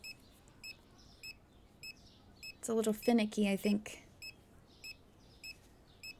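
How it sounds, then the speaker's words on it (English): A checkout scanner in the Supermarket Simulator video game beeps in short, evenly spaced chirps, about ten in a row, while someone talks briefly in the middle. "Ugh, the beeping."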